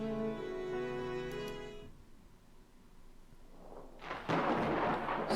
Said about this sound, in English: Suddenly there's a much louder boom than the one I caused, as thunder rumbles outside.